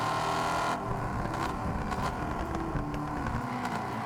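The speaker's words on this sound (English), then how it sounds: "Cars sound lovely." A continuous engine drone with revving and shifting pitch from racing cars in Test Drive Unlimited Solar Crown, steady and fairly loud with no voices.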